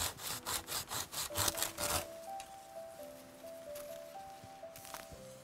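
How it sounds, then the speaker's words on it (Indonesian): Handsaw cutting through bamboo in a forest clearing: about nine rhythmic push-pull rasping strokes, close and loud, then the sawing stops and faint birdsong and ambient forest noise remain. "Harus digergaji. Kalau dengan golok takut bambunya banyak lukanya."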